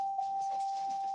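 A house doorbell sounds as a single steady electronic tone held for about a second, fairly quiet and alone.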